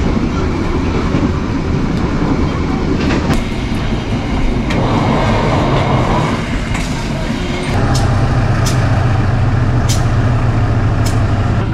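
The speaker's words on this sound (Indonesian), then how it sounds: "Selamat datang di Kereta Api Ekspres Raja Basa 1 yang akan mengantarkan kita ke tujuan akhir stasiun Tanjung Karang" The Rajabasa express passenger train runs steadily toward Tanjung Karang, with a loud continuous rumble and rattling, occasional sharp squeaks and clicks of the wheels, and a deeper roar building near the end, heard from inside the carriage.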